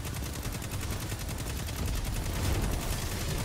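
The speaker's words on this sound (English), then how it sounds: "He just shot something. Shot a giant, fusion rifle." Rapid automatic gunfire from a fusion rifle in Destiny 2 combat rattles out as a dense, continuous stream of sharp shots, loud and close, with no talking.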